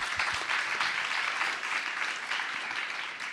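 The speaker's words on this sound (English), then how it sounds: "Let's give her a round of applause." An audience at a young scientists' summit session applauds, a dense, steady wash of many hands clapping at moderate distance, sustained for a few seconds with no speech.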